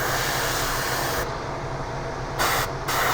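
Airbrush spraying paint on a Tamiya 1/24 Vaillant Porsche 934 scale model, a steady close hiss of air that briefly stops and restarts.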